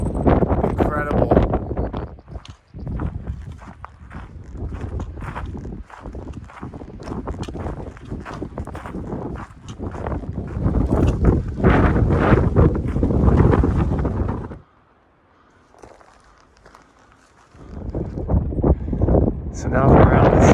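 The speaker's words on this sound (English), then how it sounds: "Hopefully as we lose elevation, we'll get out of this wind." Strong gusty wind roars on a mountain trail of the Pacific Crest Trail, buffeting the microphone heavily and almost without a break, easing for a few seconds before surging back, with voices partly buried under it.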